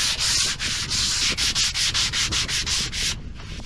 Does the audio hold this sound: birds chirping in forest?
no